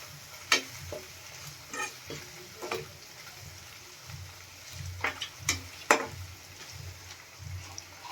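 Capsicum being stirred into ginger-chilli paste for paneer bhurji, a low sizzle under repeated sharp scrapes and clacks of a spoon against the pan, irregular and close.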